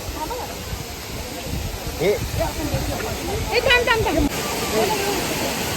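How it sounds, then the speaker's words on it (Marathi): A waterfall rushes in a constant broadband roar, with people talking and calling out over it. "कसला डेंजर धबधबा आहे"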